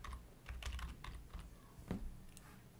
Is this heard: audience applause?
no